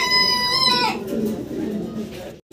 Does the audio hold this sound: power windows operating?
no